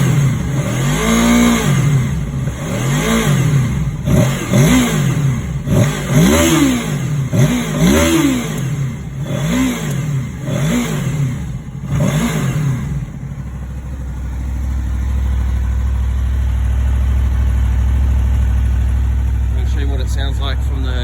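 A 2011 Honda VFR800 VTEC motorcycle, a Gen6 RC46 with its intake restrictor removed, revs repeatedly in loud, close sweeps rising and falling in pitch, then settles to a steady idle.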